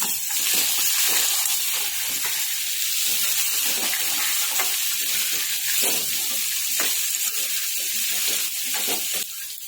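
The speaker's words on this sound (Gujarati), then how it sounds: "હવે કેરીના ટુકડા એડ કરીશું" Raw mango pieces drop into hot spiced oil tempering with dried red chili, peppercorns and cardamom, giving a loud, steady, close sizzle and crackle that runs unbroken throughout, with no voices.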